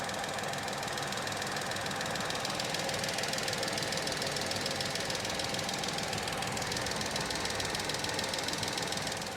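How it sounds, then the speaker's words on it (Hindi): Tata Nexon 1.2 Revotron turbocharged petrol engine running, a steady dense mechanical hum with a faint knocking, ticking texture, heard close to a nearby microphone without talking. "अब यहाँ से आप फील कर लो कितनी इंजन की आवाज़ है।"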